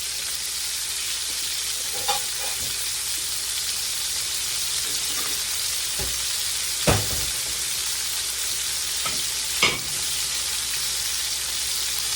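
Onion and cabbage frying in grease in a skillet, a steady loud sizzle throughout with a few soft knocks and stirring sounds scattered on top.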